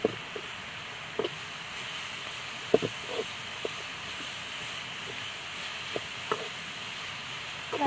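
Beetroot fries in a pan with a steady sizzling hiss throughout, broken by occasional soft scrapes and taps of a stirring utensil, close by and without talking.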